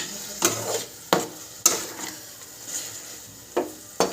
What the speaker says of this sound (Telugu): ఇప్పుడు బాగా కలుపుకుందాం